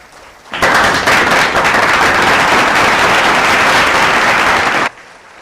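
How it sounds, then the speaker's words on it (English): A college auditorium audience at a freshers' day event gives staff members a loud, sustained round of applause that starts abruptly, holds dense and steady for about four seconds, then cuts off. "Now will you all give them a good round of applause?"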